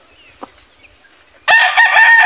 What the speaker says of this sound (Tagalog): Ang galing ng manok na ito.